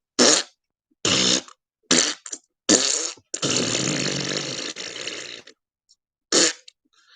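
A series of loud, close farting noises, several short bursts followed by one long drawn-out rasp and a final quick blast, separated by silence.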